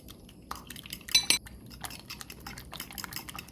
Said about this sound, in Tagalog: So, i-mix lang natin.